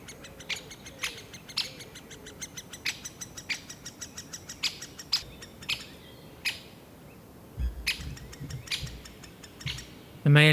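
A male great spotted woodpecker drums at its nest in woodland, sending short, sharp bursts of rapid taps at irregular intervals that stand out from faint background birdsong, with a brief low rumble near the end.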